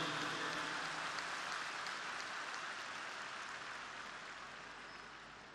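A large crowd at a thanks-giving meeting in L.B. Stadium claps in sustained, dense applause, a steady wash of hand claps that slowly fades in loudness, without speech.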